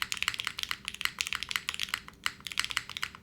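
Typing on a TKD Cycle8 mechanical keyboard fitted with O-rings and an internal weight: rapid, dense clacky keystrokes in quick bursts with brief pauses, close-miked and alone.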